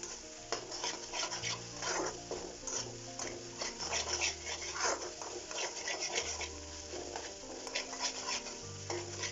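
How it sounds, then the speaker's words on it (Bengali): Spices are stirred into a mixed vegetable curry over a gas flame: steady scraping and stirring strokes over a continuous oily sizzle, close and fairly quiet, with no talking. "এবার আমি মশলাগুলোকে এর সাথে মিক্স করে নেব, এবং আমার গ্যাসের ফ্লেমটা আমি একটু বাড়িয়ে দিয়েছি"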